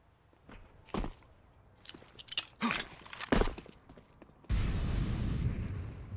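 Several Counter-Strike players' footsteps in a competitive ESEA match, scattered thuds and shuffles in quick succession followed by a dense, loud burst of running steps as a group rushes toward a bombsite after a flashbang.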